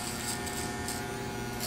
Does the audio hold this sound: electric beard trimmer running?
yes